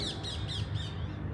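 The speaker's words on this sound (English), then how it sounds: "You can hear the parakeets in the background as well." Parakeets squawking in the background near the Kennedy Memorial Gate, a run of four or five harsh, rapid calls over a steady low outdoor rumble, moderately distant.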